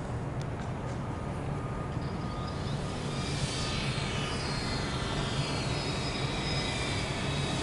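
A drone flying, launched by a throw and sent forward, gives a steady, loud whine with a broad rushing hum that carries through the whole stretch with no break and no voices.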